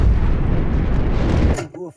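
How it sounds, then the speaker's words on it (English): A torpedo explosion in a naval war film, a loud, close rumbling blast that fills the clip and then cuts off abruptly, followed briefly by a voice. "I'm constantly hearing the explosions of torpedoes launched by our submarines"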